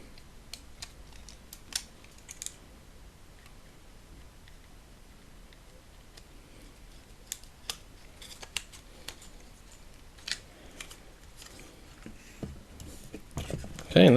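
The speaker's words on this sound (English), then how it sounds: "there are some AP screws to hold it into place. It screws in from underneath" Small AP screws are driven by hand into the underside of a 1:8 scale 1966 Batmobile model. Faint, sparse clicks and scrapes of the screwdriver come up close, with a sharper knock of parts at the end.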